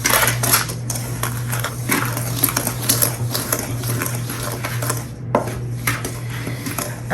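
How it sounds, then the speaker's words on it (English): Dry ingredients for a simple chocolate cake being stirred in a bowl, a steady run of scraping, clinking strokes against the bowl at close range, with a constant low hum underneath and no talking. "Then we're just going to stir it together."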